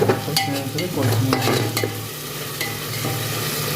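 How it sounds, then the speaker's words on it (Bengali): Ground turmeric, cumin, chili and coriander fry in a pan for chicken curry, giving a close, steady sizzle with scraping stir strokes over the first two seconds. "মশলাটা ভালো করে কষে নিয়েছি।"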